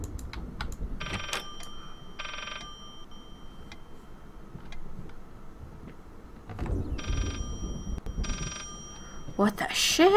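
An old-style telephone ringing from inside a book in the horror game Layers of Fear, two bursts of bright electronic ringing under eerie background tones, with someone talking in between.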